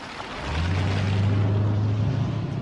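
A huge 6.75-litre V8 car engine swells into a deep, steady drone as the car accelerates, rising in level and holding for about two seconds against a broad background noise.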